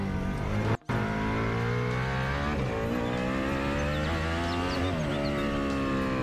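Supercar engine from a mod for the video game Unturned, driven at around 30 km/h: a steady, loud, buzzing engine drone with layered harmonics and slight pitch swells, briefly cut out for a split second near the start, no talking.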